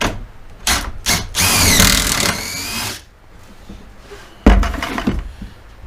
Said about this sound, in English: Let's drill some pocket holes.